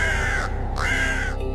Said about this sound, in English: Crows communicate. They warn others.